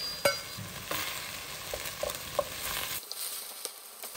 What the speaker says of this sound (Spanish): Y vamos a dejar que se citrone la cebolla.